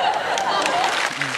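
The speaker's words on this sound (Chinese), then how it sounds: "绝对是一片掌声" An audience at a crosstalk comedy performance breaks into applause, a dense, sustained clapping with a voice briefly cutting through near the end.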